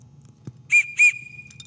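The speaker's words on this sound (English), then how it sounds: "these whistle blasts will be for you" Two short, sharp whistle blasts at an outdoor rifle range, close and loud over quiet background noise, followed by a thin lingering tone.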